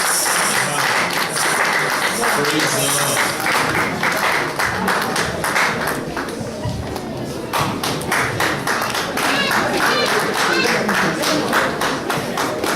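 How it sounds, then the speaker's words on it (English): A church congregation claps together in a steady rhythm throughout, loud and sustained, with voices and a brief spoken exclamation mixed in over the clapping. "keep clapping together"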